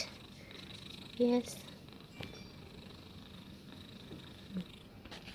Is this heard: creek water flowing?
no